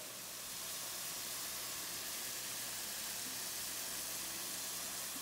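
Steak and shrimp sizzle in a skillet with a dense, even hiss that swells in the first moment and then holds steady and fairly loud, with no voices over it.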